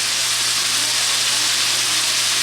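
Cubed ham and carrots sizzling in a frying pan for fried rice: a steady, loud, close hiss of frying with no pauses and no talking.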